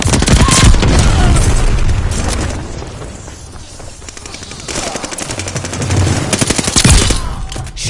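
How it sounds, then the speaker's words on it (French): Sticky bomb blast amid heavy gunfire in Call of Duty: Vanguard team deathmatch on the Shipment-style map, with loud sustained automatic fire and booming explosions filling the whole stretch. "J'envoie une bombe collante."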